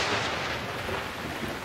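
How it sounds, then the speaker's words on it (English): Thunder rumbling through a stormy night, a continuous broadband roll with steady loudness and no voices, used as a short-film storm effect. "It was a dark and stormy night."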